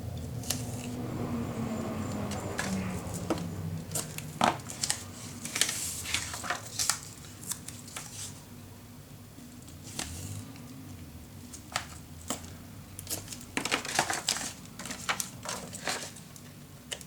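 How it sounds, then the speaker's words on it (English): Tape is pulled off a roll and pressed onto paper for a nautical-themed mini album, giving quiet, close crackles, rips and scattered taps in short irregular bursts. "So let's grab some tape and put it on."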